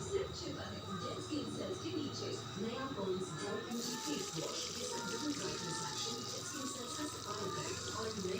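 Onions go into hot oil in a heated wok for a quick brinjal dish, giving a close, steady crackling sizzle with a voice talking over it.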